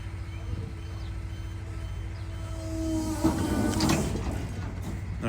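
Niftylift HR21 MK2 access platform with a drive fault, moving forward: a steady low electric motor hum and drone that swells partway through, with a rising whine and a few clunks, continuous throughout.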